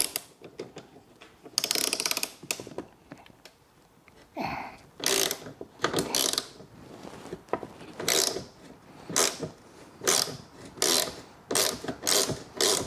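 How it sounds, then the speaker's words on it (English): A socket wrench ratchets in repeated bursts while threading onto a generator wheel, close and crisp clicking strokes with short pauses between them, no talk. "I'm just gonna start it off in the socket and see if that'll work"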